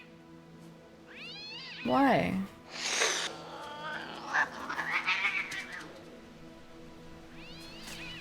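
A cat meows and caterwauls in several drawn-out, wavering calls, some loud and close, with a person speaking briefly between them.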